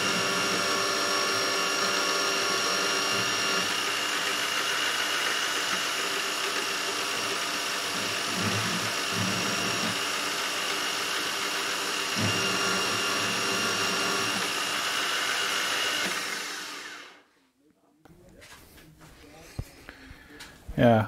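A drill running at higher RPM with coolant during a tool-grinding test: a loud, continuous whirring hum for about seventeen seconds that then cuts off abruptly, followed by quieter clicks and handling noise.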